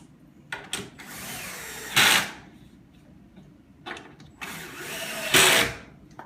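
Power drill driving a screw into a pre-started hole while building a wooden flight cage, with several short whirring bursts and one longer run near the end, loud and close, separated by quiet pauses.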